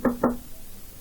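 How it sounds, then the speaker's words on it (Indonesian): Two quick, hollow knocks on the door of a rented room sound close and distinct, then fade into quiet room tone. "tiba-tiba suara ketukan pintu sedikit mengejutkan"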